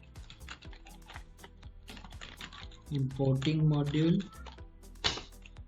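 Fast clicking of a computer keyboard while Python code is typed, close and light keystrokes in an irregular rhythm, with a voice speaking briefly partway through.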